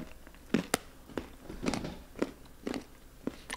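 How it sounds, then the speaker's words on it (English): Crunchy bites and chewing of a Crunch chocolate bar, close to the mic in a mukbang-style tasting, with about six sharp crisp bites and softer chewing between them. "Oh, this is a mukbang video. Yeah. ASMR chewing."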